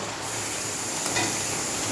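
Tomato added to a hot frying pan sizzles steadily, with a soft stirring scrape partway through.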